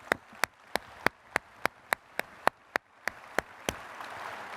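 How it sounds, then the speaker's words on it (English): A single person claps in a slow, regular beat, about a dozen distinct, sharp claps heard close up over faint background hiss. "A big applause, guys, please."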